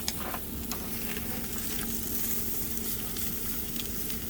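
Steak searing on a hot grill, a steady close sizzle with a faint hum and a few small crackles, no voices.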